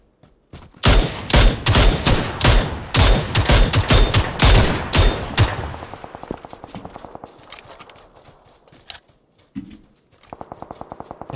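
Video-game gunfire bursts loud and rapid, with dense volleys of shots for several seconds before thinning into quieter, fast ticking fire and scattered single shots.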